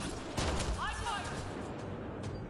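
Video game gunfire erupts in a few loud, close bursts amid continuous background noise and a short whooshing sweep, with a voice calling out over the action.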